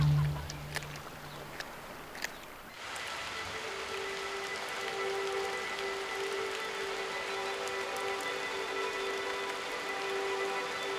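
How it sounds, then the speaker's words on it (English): Steady rain falls across the Scottish Highlands, a dense, even hiss of drops soaking the ground that sets in after a few seconds of quieter patter and holds constant and near. "Back in the Highlands, the rains have come too, soaking the ground."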